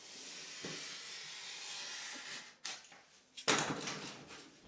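A utility knife scoring and slicing through a board for a small bedroom makeover, with a long steady hissing scrape followed by a few sharper, louder cutting strokes close up.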